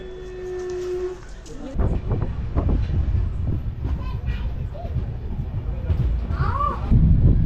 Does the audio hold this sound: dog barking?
no